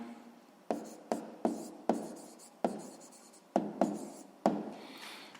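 A pen scratches out a math answer on paper in short separate strokes, about eight quick scribbles with small gaps between, close and quiet, with no voices.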